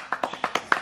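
Bernhard claps his hands: about seven quick, evenly spaced claps sound in under a second, crisp and fairly close.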